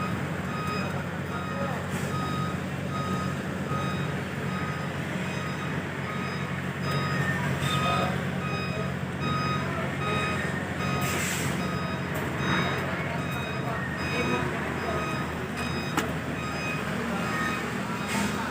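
A trailer truck reverses at a delivery station, its backup alarm beeping in a steady, evenly spaced rhythm over a low idling engine, while people talk nearby.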